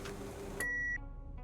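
A single clean electronic beep in the video game Autopsy Simulator, a short sustained tone that stops abruptly, followed by a faint quieter blip in an otherwise hushed scene.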